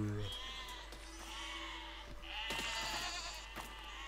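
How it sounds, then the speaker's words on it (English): Sheep bleat repeatedly in the medieval siege-building game Besiege, several wavering calls spread over a few seconds among game noises and brief clattering sounds. "That is the strongest sheep in the world, that is."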